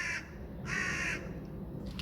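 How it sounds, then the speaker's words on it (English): A blackbird calls outdoors with three harsh, raspy caws, each around half a second long, spaced across two seconds over a steady background hum. No one speaks. "Even the fucking blackbird in the sky agrees."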